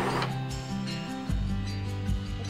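Epson L355 inkjet printer running its initial startup cycle, a steady close mechanical whir with repeated rhythmic ticks and brief motor surges, heard alone.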